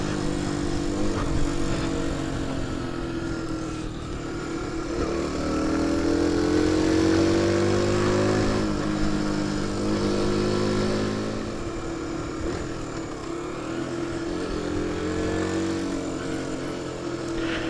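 A 2015 Sinnis Trackstar 125cc motorcycle ridden through corners on Sussex roads, its small engine droning steadily with the pitch rising and falling as it leans and accelerates, close and continuous under wind noise.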